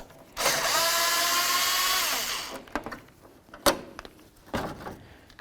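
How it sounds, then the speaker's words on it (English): A power tool spins out a mounting bolt from the plastic grill assembly on a 1992-99 GMC K1500 pickup in a steady whirring burst of about two seconds, followed by a few sharp clicks and knocks as the tool settles. "Now we're going to remove the mounting bolts that hold on this whole plastic grill assembly here."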